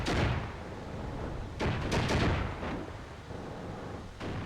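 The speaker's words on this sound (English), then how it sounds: "Flak panzers engaging." Flak panzers in the Armored Brigade 2 war game fire anti-aircraft guns in a broadband, rumbling barrage, with sharper bursts at about 1.6, 2.0 and 2.2 seconds and another at the end.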